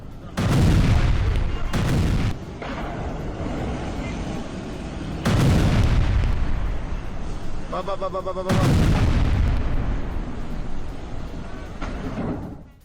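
Three heavy, booming rocket explosions in Haifa roll out one after another, each followed by a long rumbling decay, with a brief rapid clatter between them.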